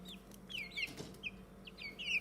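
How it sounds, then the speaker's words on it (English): Curious chicks give repeated high chirping peeps, several short bursts spread over a couple of seconds, close by over a low background hum. "Some of the chicks are very curious."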